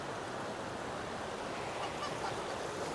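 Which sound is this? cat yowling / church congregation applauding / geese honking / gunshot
geese honking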